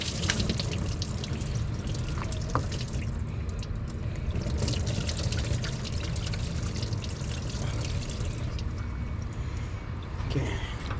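Coolant draining from a Ford Ranger 3.0L V6 with a suspected clogged radiator, a steady close pouring trickle and splash of fluid running continuously into a pan.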